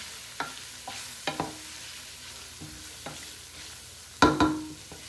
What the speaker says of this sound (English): now I'm going to add a 1/4 cup of all-purpose flour and let that cook a minute